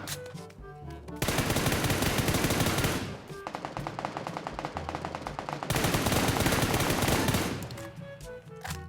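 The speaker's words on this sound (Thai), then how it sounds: "เดี๋ยวเราลองยิงดูนะครับทุกคน" Automatic rifle fire from PUBG New State roars in two long, loud, continuous bursts, with quieter moments before, between and after the shooting.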